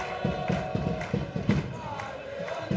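Bnei Yehuda football fans keep up loud, rhythmic cheering and chanting in the stadium at a league match against Ironi Tiberias while their side trails 1-0, with steady drumlike thumps under the dense roar of the crowd.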